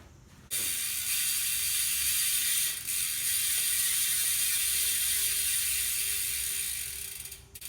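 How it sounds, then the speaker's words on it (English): Rear hub freewheel on a Marin San Quentin 3 mountain bike clicking as the wheel spins, a fast, loud, continuous ratcheting buzz running for about seven seconds before slowing at the end. "This hub's a lot louder."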